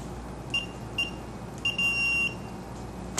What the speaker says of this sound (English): You'll hear the beep to confirm that you made the change.